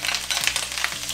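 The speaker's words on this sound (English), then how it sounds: "I use this for a lot of fresh fish frying, and I love it for potatoes because it'll give them that nice crispy crunch" Potatoes sizzle and crackle steadily in a hot cast iron pan, close and fairly loud, with no talking.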